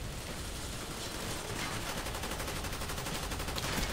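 Rapid automatic gunfire in the video game Call of Duty Black Ops, a dense, fast-rattling stream of shots that continues without pause at a moderate, slightly distant level.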